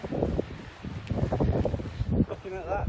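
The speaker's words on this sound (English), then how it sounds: "Oh, it's windy." Gusty wind from Storm Dennis buffets an outdoor walk, roaring steadily against the microphone in loud, broadband rushes, with a brief voice-like tone near the end.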